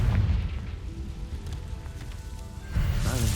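A Confringo blasting spell in the video game Hogwarts Legacy rumbles low and heavy, easing off before a fresh, louder booming burst swells near the end.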